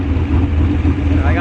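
A turbocharged LS V8 in a Chevrolet Envoy running loud with a steady, deep engine drone throughout, a brief rising whine near the end, and a voice speaking over it.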